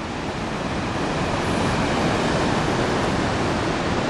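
North Sea waves on the Scottish coast make a loud, unbroken roar of surf with a steady, broad wash and no talking.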